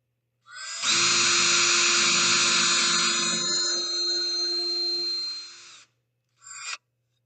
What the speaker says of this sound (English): and I'm just gonna drill through.